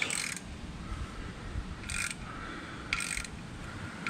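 A GM door spring compressor squeezes a door spring while working on a zero turn mower that will not move, giving three short metallic ratcheting clicks spaced about a second apart over a steady low mechanical background.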